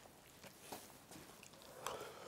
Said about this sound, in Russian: Вы ругаете, что я чавкаю?